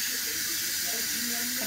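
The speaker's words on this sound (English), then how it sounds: "I don't know why the steam decided not to come out, but it did." Steam hisses steadily from a pot of vegan wedding soup once the lid comes off, a constant airy rush that stays level and close throughout.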